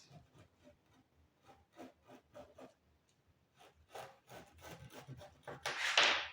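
Fabric pieces for a female celestial garment are cut out with scissors, producing quiet, irregular snipping and rustling close by, ending in a louder crinkling rustle.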